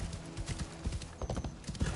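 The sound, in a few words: horse hooves clip-clopping, from video game Assassin's Creed Shadows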